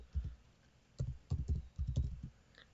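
An email address is typed on a computer keyboard in short, close clusters of soft keystrokes with brief gaps between them, quiet and clear, with no voices.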